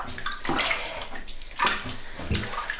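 Water splashes and sloshes steadily while a baby is soaked in a bath, close and fairly loud, with rhythmic surges.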